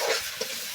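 Chicken with ginger garlic paste fries on a clay stove, giving a brief, steady, hissing sizzle with a small pop partway through.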